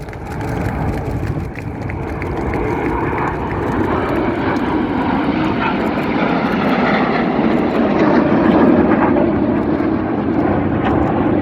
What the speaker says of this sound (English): Red 1 about to bank the aircraft to the left.